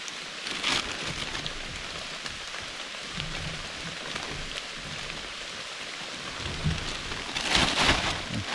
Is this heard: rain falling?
yes